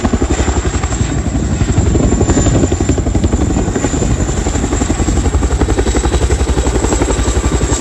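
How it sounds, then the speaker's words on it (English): A Chinook twin-rotor helicopter thunders close by as it lands, its blades thumping in a rapid, steady rhythm under a loud, continuous engine whine. "We've got a Chinook helicopter that just is about to land right now."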